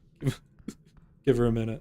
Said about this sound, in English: If you hear dog bark in the background, my dog is just starting to have a spasm.